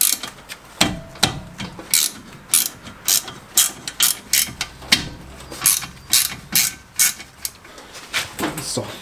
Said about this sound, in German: mit dem 7er Inbus die beiden Schrauben oben oder also die beiden Bolzen oben unten lösen